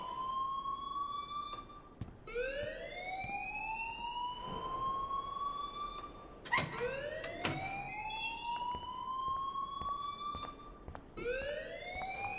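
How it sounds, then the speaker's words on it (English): A fire alarm wails in the video game Life is Strange, repeated rising electronic sweeps every couple of seconds, loud and continuous, with a few sharp clicks in between and no talking. "please turn off that alarm since that's your job"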